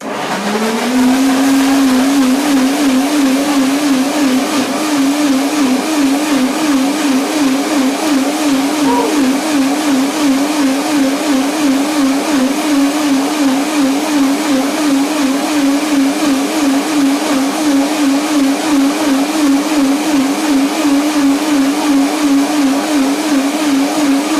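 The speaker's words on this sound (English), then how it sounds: "Blender dance again." A blender runs steadily at high speed blending blueberry coconut chia pudding, a loud, continuous whirring drone without pause.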